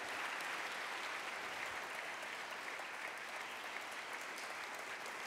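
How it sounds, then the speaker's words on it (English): Steady applause from a large audience, dense and continuous throughout, with no voices rising above the clapping. "Give them a round of applause, our sponsors."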